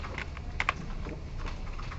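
Typing code on a computer keyboard, a quick run of key clicks with a couple of sharper taps, steady and close in a quiet room.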